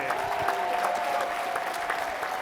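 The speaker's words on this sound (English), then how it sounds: "can we give another big round of applause to all the mayors who came to our city?" A room of people at a gathering of American mayors claps for the visiting mayors, giving a full, even round of applause that holds steady and loud for the whole stretch.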